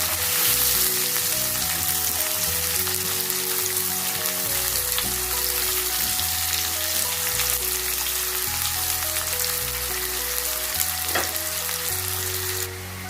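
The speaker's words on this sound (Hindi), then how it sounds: "प्याज मीडियम साइज की मैंने काट ली है, वो इसमें डाल देंगे। और इसको अच्छे तरीके से फ्राई कर लेंगे।" Two medium chopped onions fry in hot oil for a kebab masala gravy. A steady, loud crackling sizzle carries on throughout, with soft stirring scrapes and low background music underneath.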